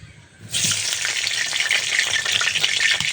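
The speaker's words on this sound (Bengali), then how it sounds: "আর এখানে আমি কিছু পেঁয়াজ কুচি বেরেস্তা করতেছি" Chopped onions frying in a small amount of oil for beresta, a quiet moment giving way abruptly to a loud, steady hiss and crackle that holds with light stirring, no talk.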